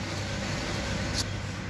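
Tour buses circulating around the Wiang Kum Kam ancient site in Chiang Mai, Thailand, a steady nearby vehicle engine drone with a brief brighter hiss partway through.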